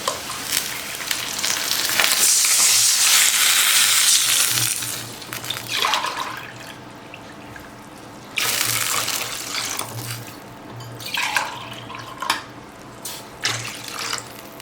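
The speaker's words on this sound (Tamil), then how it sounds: "இப்போ நம்ம தண்ணி விட்டுக்கலாம்" Water pours and splashes into a hot pan of sautéed onions, hissing and sizzling loudly at first, then coming in a few shorter gushes with bubbling between them.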